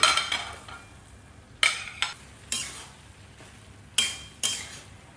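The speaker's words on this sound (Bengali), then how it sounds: "এবার যে ভেজে রেখেছিলাম সবজিগুলো ওগুলো সব অ্যাড করব" Vegetables, lightly fried beforehand, are stirred in spiced hot oil in a pan, giving a steady sizzle broken by several sharp scraping and clinking strokes of a spoon against the pan, close and clear.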